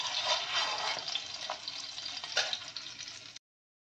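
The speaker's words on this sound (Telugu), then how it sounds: "అందులో ఆవాలు, జీలకర్ర వేసుకున్నాము. అలాగే ముందుగా ఒలిచి పెట్టుకున్న వెల్లుల్లిపాయలు కూడా వేసుకొని ఇది కొద్దిగా ఫ్రై అవనిద్దాం" Mustard seeds, cumin and peeled garlic fry in hot oil in a pan for Telugu tomato usirikaya pickle, giving a close, steady sizzle with a few crackling pops before it cuts off abruptly.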